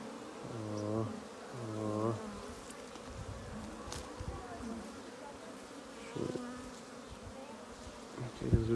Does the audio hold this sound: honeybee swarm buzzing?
yes